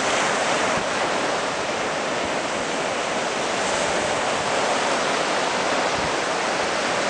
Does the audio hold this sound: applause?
no